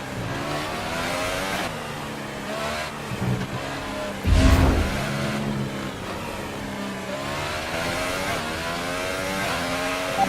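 Race car engine from the F1 2018 video game runs steadily at high revs throughout, with harmonic whine shifting through gear changes and a brief louder surge midway; the car has a rear wing fault and a slightly worn engine.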